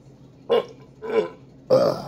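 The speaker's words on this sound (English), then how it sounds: "It's passing the big norm burp test on the first sip." Three short, close burps follow a sip of Warheads Sour Black Cherry soda, each a separate guttural puff with quiet gaps between them and no speech.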